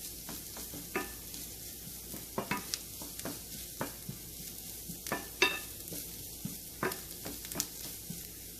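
Chopped ginger and curry leaves sizzle steadily in a hot pan while a spoon stirs them, scraping and tapping in irregular bursts over a constant frying hiss.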